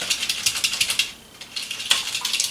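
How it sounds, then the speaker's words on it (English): A small whisk stirs a spicy lime mixture in a bowl, giving rapid, close metallic clicking strokes in an even rhythm with a brief pause midway. "I'm going to come in here with my little whisk and stir this up."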